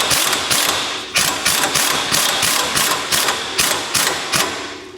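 An impact wrench runs lug nuts up on a Polaris Ranger 500 wheel fitted with XP 900 rims, a loud, close, rapid hammering rattle that pulses in quick regular beats after a brief pause.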